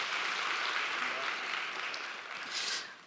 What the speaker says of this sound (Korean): 우리 이한이 위해서 박수 한번 하도록 하겠습니다.